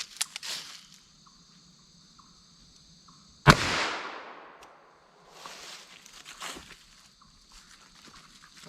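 A single sharp gunshot from a .32 H&R Magnum with a 4.2-inch barrel firing Federal American Eagle soft point ammunition at an outdoor ballistic test, loud and close, with a ringing decay and quiet shuffling around it.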